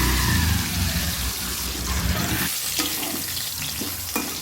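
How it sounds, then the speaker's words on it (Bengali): Potatoes fry in hot oil while cooking a vegetarian pointed gourd and soybean curry, giving a loud steady sizzle with scraping stirs and clinks from a spatula, up close and without voices. "তাই আরও এক চামচের মতন তেল দিয়ে দিলাম দিয়ে আলুটা ভেজে নেব"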